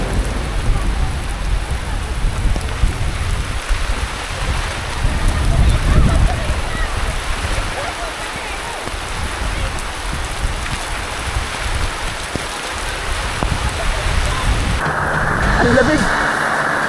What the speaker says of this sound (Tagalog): Bumuhos na naman ng ulan